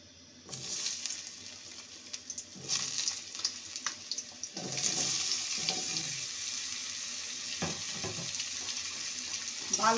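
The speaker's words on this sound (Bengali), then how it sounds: "কুমড়ো আর আলুকে ভেজে নেব।" Pumpkin and potato pieces drop into hot mustard oil in a pan and burst into a loud, steady sizzle, with a few clinks and stirring scrapes under the crackle.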